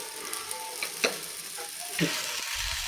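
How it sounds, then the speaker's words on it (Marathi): Sabudana (sago pearls) sautéed in ghee in a pan, a steady soft sizzle with occasional stirring scrapes and clicks, close and moderately loud, no talking. "दोन ते चार मिनटे हा परतून घेते मी तुपावरती"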